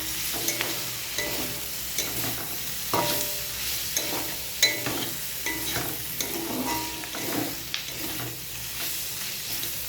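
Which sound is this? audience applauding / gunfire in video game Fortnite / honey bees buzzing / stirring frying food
stirring frying food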